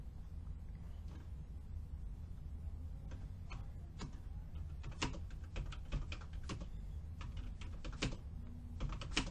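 Computer keyboard typing, soft irregular key clicks that build into quicker bursts over a low background hum, close and quiet.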